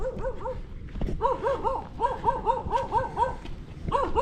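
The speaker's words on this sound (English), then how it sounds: "Got the dogs lining up. I already hear them growling." Several dogs bark repeatedly in quick, overlapping yips and bow-wows on a street during a walk in the Philippines. The barking is fairly close and continuous, with brief gaps.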